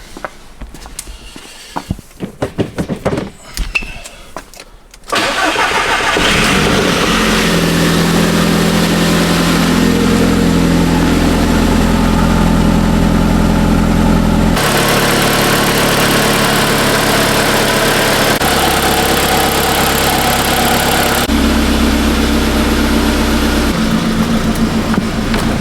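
After some shuffling and handling noises, the engine of a modern classic project car cranks and catches, then settles into a loud, close idle that rumbles steadily with small shifts in tone, with no talk over it.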